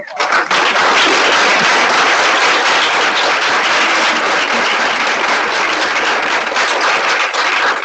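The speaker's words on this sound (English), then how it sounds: "Please round of applause." Loud, dense audience applause for panelists at an environmental justice panel event; sustained clapping fills the whole stretch at a steady level with no talking over it.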